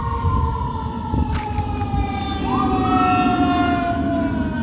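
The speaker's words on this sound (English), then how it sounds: "That's a fire truck, not an ambulance" Loud fire truck siren wailing with rising and falling tones, close by and continuous, over a low engine rumble.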